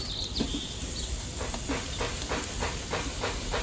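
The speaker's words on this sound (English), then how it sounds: "You can hear it starting to sizzle." A spatchcock chicken sizzles on a Kamado Joe Jr grill. It makes a continuous close hiss with faint rhythmic crackles and pops.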